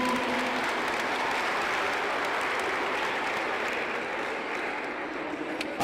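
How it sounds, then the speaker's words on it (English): Steady, crowded applause fills a school-district athletic recruitment event for girls, a thick continuous patter of many hands that runs unbroken and eases only slightly near the end. "yourselves a round of applause for signing up and coming"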